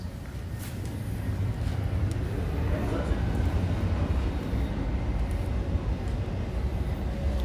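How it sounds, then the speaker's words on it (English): A train passes by outdoors, heard as a steady, loud low rumble and rolling roar that holds for the whole stretch without clear breaks. "It's actually a train going by."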